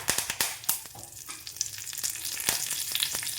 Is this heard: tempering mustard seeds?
yes